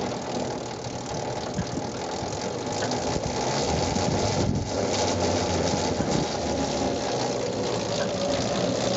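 A Prince 10 25-inch machine running, its motor humming steadily with gears turning and faint clicking under a voice, which talks across the whole stretch.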